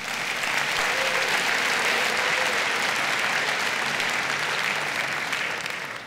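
An audience of school faculty at a district back-to-school celebration applauds, a dense, even wash of clapping that holds steady and then fades slightly at the end.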